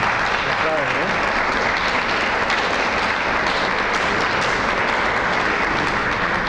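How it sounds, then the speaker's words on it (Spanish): Sustained, dense audience applause during a lecture on the problem of evil, an even wall of many hands clapping with no breaks, loud and filling the room from start to finish. "se supone que este aplauso es para Dios"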